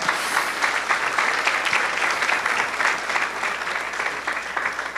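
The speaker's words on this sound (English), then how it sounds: "Let's give God a round of applause." Audience at a Caribbean community awards event gives a round of applause, dense, even clapping filling the whole stretch without speech.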